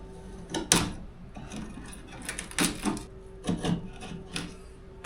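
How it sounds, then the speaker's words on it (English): Hand sanding along the edges of a cored-out fiberglass boat cockpit door gives short rasping strokes in uneven bursts, close and fairly quiet. "Now time to dig out this core, clean up, so sand out the edges so it looks nice."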